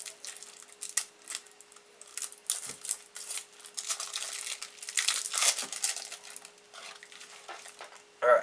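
Crinkly plastic and paper rustling as Teenage Mutant Ninja Turtles trading card packs and playing-card-like cards are handled up close, irregular crackles and shuffles with a steady faint hum underneath.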